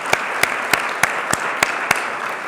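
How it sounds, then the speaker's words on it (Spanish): Applause from an audience at an anniversary event for Videnza, sharp claps landing in an even, repeating beat above a continuous crowd hiss, fairly loud and close. "Un aplauso, por favor."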